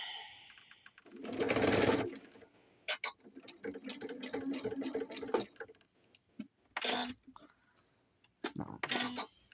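A sewing machine fitted with a 1/4 inch walking foot stitches quilt binding in short, rapid bursts, its rhythmic mechanical chatter clear and close, separated by pauses and light handling noises.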